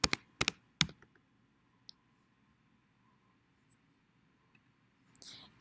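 Keystrokes on a computer keyboard typing answer options into an online quiz form: a few sharp, close clicks in the first second, then mostly quiet with scattered faint taps and a soft rustle at the end.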